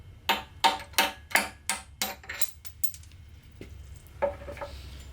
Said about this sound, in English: We're just going to take a punch and a hammer, go in from the inside,